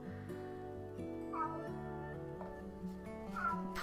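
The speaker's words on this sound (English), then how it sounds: "he has the loudest, most obnoxious meows" A talkative house cat meows loudly twice, with drawn-out, rising-and-falling cries over a soft, tonal background.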